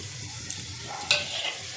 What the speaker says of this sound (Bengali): তেল গরম হয়ে গেছে। আমি এবার একটু গোটা জিরে ফোড়নে দিয়ে দেব।